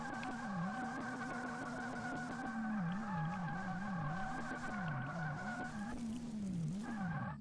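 A car driving hard in what looks like a racing game, with a sustained engine drone rising and falling alongside continuous tire squeal, loud and up close, with no talk.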